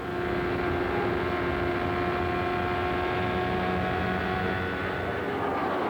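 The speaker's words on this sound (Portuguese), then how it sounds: "Vamos sentir a saúde do motor Ford do Mario Andretti." Ford-powered Indy race car engine at the Indianapolis 500 in 1994, a steady, loud, continuous drone with a sustained tonal whine running without a break, no voices over it.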